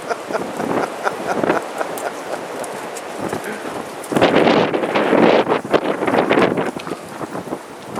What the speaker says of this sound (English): this wind's really playing hectic